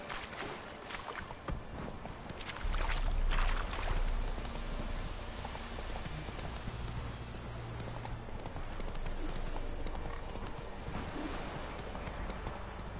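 Hooves of a horse being ridden at an easy pace in the Witcher 3 video game, a steady clip-clop rhythm over ambient outdoor game sound, with no talking.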